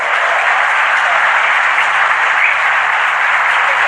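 A dense, steady wave of audience applause fills the whole stretch, loud and sustained without a break, as a crowd at a formal ministerial event with the Indonesian president claps.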